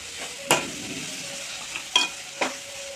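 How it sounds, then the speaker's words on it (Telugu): Bitter gourd frying on high heat in a pan, a steady crackling sizzle punctuated by three sharp spoon clinks against the metal as it is stirred. "కాకరకాయ ఇట్లా బ్రౌన్ కలర్ వచ్చేదాకా వేయించుకోవాలి."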